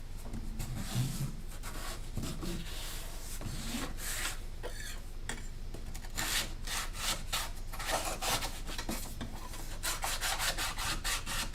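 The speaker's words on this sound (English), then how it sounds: "find my old sandpaper and clean up this blade" Sandpaper scrubs over a hand plane blade in steady back-and-forth strokes, a close, dry rasping that repeats for several seconds at moderate volume with no voices.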